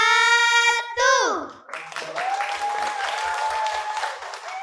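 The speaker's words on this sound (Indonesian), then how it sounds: "Sekali lagi kita berikan tepuk tangan yang meriah untuk penampilan Syarhil Quran." An audience claps after a children's performance of Syarhil Quran on a TV show; a brief tone fades into steady, lively applause that fills the rest of the moment.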